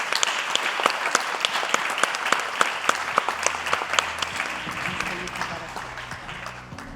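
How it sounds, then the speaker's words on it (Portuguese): A conference audience claps for its guests in a dense, steady round of applause that builds briefly then thins toward the end, with a voice speaking over it. "uma salva de palmas para os nossos convidados"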